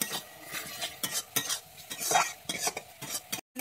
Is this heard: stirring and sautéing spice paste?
yes